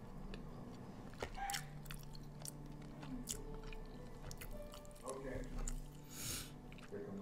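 Biting into and chewing spicy food, soft wet munching and crunching close to the mouth, faint and intermittent, with brief voice sounds between bites.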